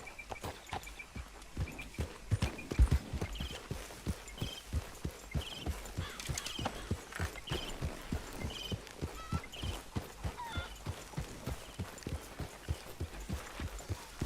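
Horse hooves clip-clopping at a steady walking pace in Red Dead Redemption 2, an even rhythmic patter of soft thuds carrying through quietly with no talk over it.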